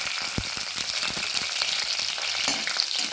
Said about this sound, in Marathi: तेल छान तापलं की ह्या ज्या मिरच्यांचे तुकडे आहेत ते टाकून घ्यायचे